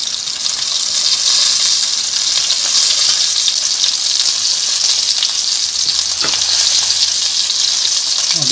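Chicken wings sizzle steadily in hot oil over medium heat, a dense, continuous crackling hiss that stays loud and close throughout with no talking.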